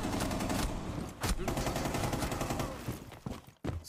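Rapid gunfire from a bot in Rainbow Six Siege, shooting through smoke: dense bursts of shots in a steady stream, briefly broken near the end before resuming.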